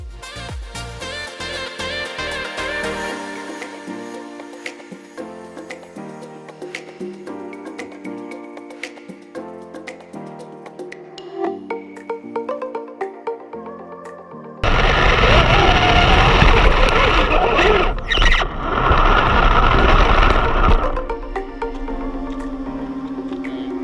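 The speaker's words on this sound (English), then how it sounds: "whirring noise was the gears stripping in the gearbox" Gears stripping inside a 3D printed tank's gearbox give a loud, harsh whirring grind that bursts in after a stretch of music, holds steady for about six seconds, then cuts back to the music.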